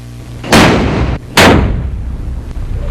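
Two sharp, loud firecracker blasts about a second apart, a firecracker set on a watermelon bursting it, each bursting suddenly and then echoing off into a fading rumble.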